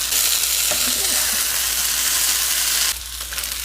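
Pineapple fried rice with Spam sizzles and fries steadily in a pan with a soy, ginger and garlic sauce, a dense continuous hiss that drops slightly quieter near the end, with faint stirring scrapes and no talking.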